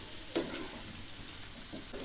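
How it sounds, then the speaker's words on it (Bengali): Onion paste and spices being sautéed in a pan for broccoli and katla fish curry, a faint, steady sizzle with a few soft stirring scrapes, quiet and brief. "সেই সঙ্গে দিয়ে দিচ্ছি মাঝারি সাইজের একটা পেঁয়াজ বাটা। এগুলি খুব ভালো করে কষিয়ে নেব।"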